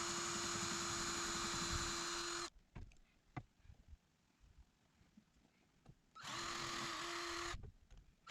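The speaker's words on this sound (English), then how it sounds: "But first I'm going to pre-drill these holes" A power drill pre-drills holes in a wooden step for a loft ladder, heard as two loud, steady, high whirring bursts with quieter handling noise between them.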